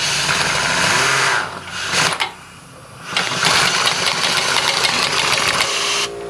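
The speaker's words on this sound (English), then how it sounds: "Oh, we need to wait for the compressor." An air compressor runs in a home garage during suspension work on a Mazda RX-7 FC3S. It makes a loud, steady mechanical drone that drops out briefly twice before resuming at full strength.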